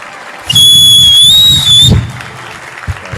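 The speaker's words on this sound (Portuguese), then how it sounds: "eu quero a salva de palmas mais incrível para esses irmãos maravilhosos." Loud audience applause erupts at a business expo talk, joined by a sustained high whistle, then fades into a quieter crowd murmur with scattered claps.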